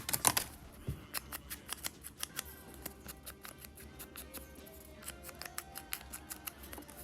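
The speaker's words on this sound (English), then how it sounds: "Let's get our fuzzy scissors." Decorative-edge scissors snip paper for a junk journal altered book, close and crisp, in a quick series of sharp cutting clicks, with no talking.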